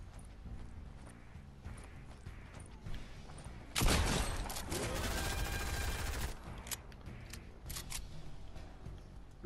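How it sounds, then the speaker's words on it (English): Video game gunfire in a shooter match, a dense burst of rapid shots for a couple of seconds midway, loud against quieter game ambience with sparse clicks before and after. "Who's shooting? Is that you shooting?"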